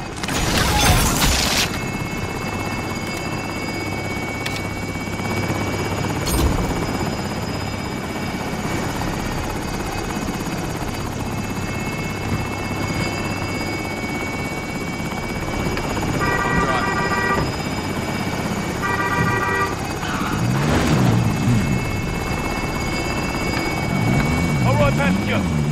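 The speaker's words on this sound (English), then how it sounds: "Helo is in position for your deposit." A helicopter hovers in the Call of Duty: Modern Warfare video game, its rotor thumping steadily and loudly throughout, with radio voices, beeps and game sounds layered over it.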